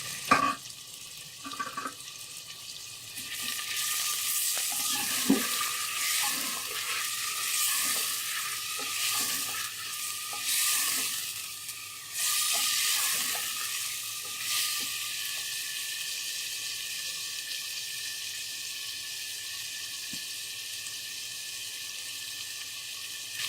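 Mutton pieces with ginger garlic paste frying in a cooking pot, a steady sizzling hiss with occasional stirring scrapes and clinks, close and continuous with no talking.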